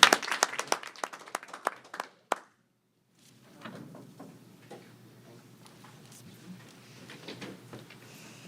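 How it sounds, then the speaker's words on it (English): Scattered claps from an audience at a university business pitch competition, a brief burst of sharp individual claps that stops abruptly, followed by quiet room noise with soft murmurs. "So let's give them a round of applause."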